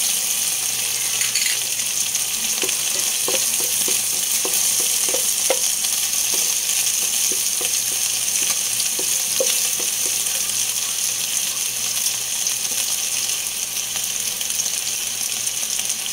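Chicken pieces sauté in a pan with garlic, making a continuous loud hiss with clusters of light tapping and scraping as the spoon turns them, joined by a faint watery trickle. No voices.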